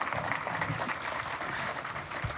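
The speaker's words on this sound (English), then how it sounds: "A big round of applause." Audience at a panel session on cities applauding, a steady, moderately distant patter of many hands clapping that lasts the whole moment without talk.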